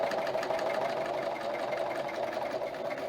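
An embroidery machine stitching an appliqué bag runs continuously with a fast, even mechanical whir and rattle, close and steady throughout with no talk.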